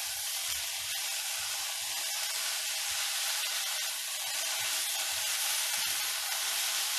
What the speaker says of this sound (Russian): как здесь шипит, да? Это обжариваются овощи.